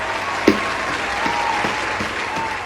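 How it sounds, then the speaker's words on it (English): A crowd applause sound effect plays, a steady wash of clapping at moderate level lasting a few seconds. "give her a round of applause"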